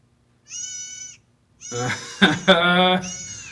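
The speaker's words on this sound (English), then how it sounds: "that's a screaming goat for sure" A screaming goat lets out a short bleat, then after a pause a longer, louder series of harsh, human-like screams and wavering cries, close and loud against a quiet background.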